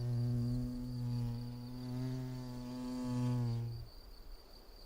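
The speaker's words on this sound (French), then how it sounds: "Cet osmie bicolore a fort à faire pour aménager son futur nid." A bicolored mason bee, Osmia bicolor, buzzes loudly and close while shifting a snail shell, a steady tonal hum rising and falling for about four seconds before stopping abruptly.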